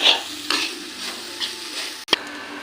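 Garam masala and chicken masala spices cooking in a pan over a low flame for keema paratha, with soft crackling sizzle and a few stirring scrapes, one sharp clink near the end.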